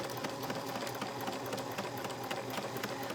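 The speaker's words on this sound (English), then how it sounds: "And then we'll start sewing on that line again." A sewing machine stitches along a line of fabric, its needle mechanism chattering in a steady, rapid rhythm that stays close and even throughout with no pauses.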